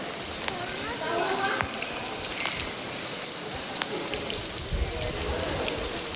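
Heavy rain pours near a temple beside a swollen river, a dense, steady hiss with scattered drops, while people talk over it.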